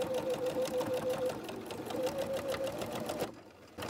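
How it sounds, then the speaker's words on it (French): Sewing machine stitching a bag lining, a fast steady close-up stitching rhythm with a whining motor tone that runs for about three seconds and then stops abruptly. "j'aligne toujours mon tissu avec le bord du pied presseur"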